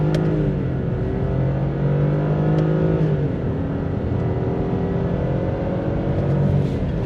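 A turbocharged BMW 118i accelerates under boost, its engine note droning and rising steadily through the gears, loud and close throughout with no talking.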